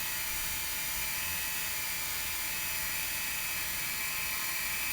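Small ZEN Mini drone's motors spinning up indoors, a dense steady high-pitched whir with rotor buzz holding constant throughout, close and loud with no talking.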